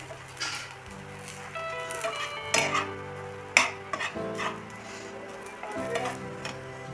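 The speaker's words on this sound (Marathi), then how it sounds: "आपण ह्याच्यातच खोबरं टाकू जे आपण खोबरं घेतलेलं आहे ते टाकून देऊ तेवढं चांगलं भाजून घेऊया" Grated coconut roasts in a pan with a light sizzle as a spoon scrapes and stirs in uneven strokes, close by, with a few louder clanks.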